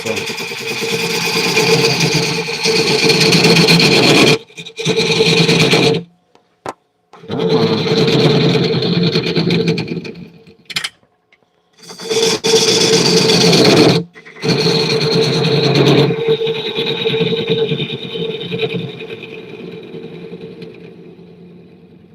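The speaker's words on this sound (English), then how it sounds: "As my lathe walks away." A metal lathe cutting a workpiece at reduced speed, a loud steady machining drone with harmonic whine and chatter, broken by several short pauses as the cut stops and restarts, running alone without talk.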